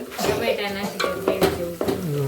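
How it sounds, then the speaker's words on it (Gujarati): Onions fry in a pan for a peanut bhajiya curry, a steady close sizzle broken by repeated scraping stirs of a utensil against the pan. "ડુંગળી ફ્રાય થઈ જાય"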